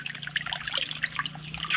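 Water splashes and trickles steadily into barrels in Cambodia, a continuous bubbling pour with no voices.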